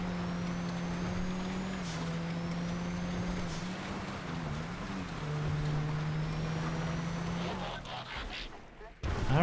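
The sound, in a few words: police road cruiser car driving in GTA 5 (video game)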